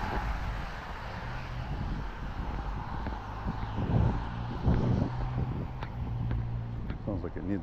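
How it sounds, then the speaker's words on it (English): On a night walk, a passing vehicle with a loud, unmuffled engine gives a rough, low rumble that swells for a few seconds and then fades, heard from the street alongside wind noise on the microphone. "Sounds like it needs a muffler."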